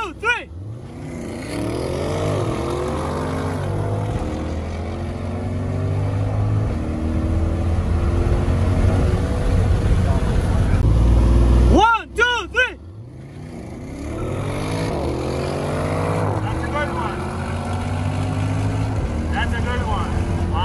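A Chevrolet Corvette C8 and an R6 car accelerate hard from a dig, their engines rising in pitch through several gear changes, dropping off sharply midway, then pulling again loudly.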